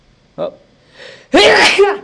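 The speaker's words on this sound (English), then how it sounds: "Hang on, I got a sneeze coming." A single loud, close sneeze from a man alone at his desk during a maths lesson, preceded by a short sharp intake and followed by a brief spoken exclamation.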